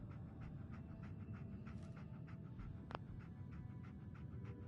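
Dogmeat, the dog companion in Fallout 4, pants in a steady rhythm of quick breaths, close and fairly quiet over a low rumbling game ambience, with one brief sharp click partway through.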